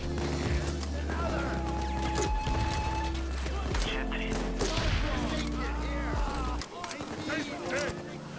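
Warning gunshots ring out in the Payday 2 video game, several sharp bursts layered over steady background music and game noise, with voices talking throughout.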